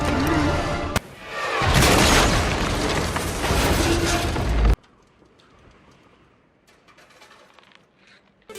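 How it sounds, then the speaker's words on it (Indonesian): Film scene of a train derailing and plunging into a ravine: a loud sustained crashing roar and rumble with a sharp impact near the start, cutting abruptly to quieter background sound. "Sampai di akhir pengejarannya, kereta itu pun anjlok dan jatuh di sebuah jurang."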